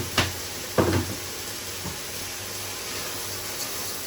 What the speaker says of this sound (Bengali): আবার কিছু সময় ভেজে নিচ্ছি নিচে যেন পুড়ে না যায়, এজন্য একটু নাড়াচাড়া করে নিলাম।